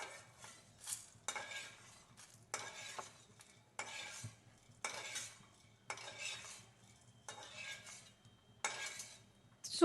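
Roasted sago being moved from a pan to a plate, a series of quiet scraping and rustling sweeps with a spoon against metal, repeated in short bursts with pauses.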